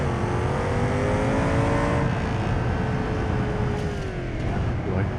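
A sports car's exhaust revs hard as it accelerates in the BeamNG.drive driving game, a loud continuous engine roar with rising and falling tonal sweeps and gear changes over five seconds.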